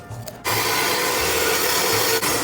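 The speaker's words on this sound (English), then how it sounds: "I love this saw." A hand saw cuts wood in a welding shop with steady, continuous rasping strokes, close and fairly loud, starting abruptly after a brief quiet moment and running without talk.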